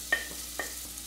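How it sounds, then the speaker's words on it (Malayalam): Chopped medium onion dropped into hot oil in a frying pan for moong dal tadka, two soft sizzling bursts a moment apart with a quiet fry in between. "ഇനി ഇതിലേക്ക് നമുക്ക് ഒരു മീഡിയം സൈസിലുള്ള സവോള നല്ല ചെറുതായിട്ട് മുറിച്ചത് കൂടി ഇട്ട് കൊടുക്കാം."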